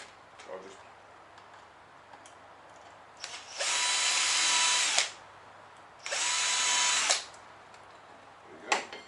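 A power drill bores into kayak steering parts in two steady bursts of about two seconds each, loud and close, with a short pause between and quieter handling sounds before and after.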